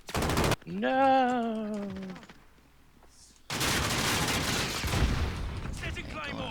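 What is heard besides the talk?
double-barrel shotgun fire in Call of Duty video game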